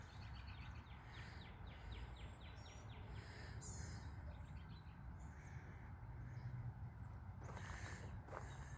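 Birds call outdoors on a foggy day near cows, with repeated faint chirps and a crow-like caw over a steady distant rumble, and no talking.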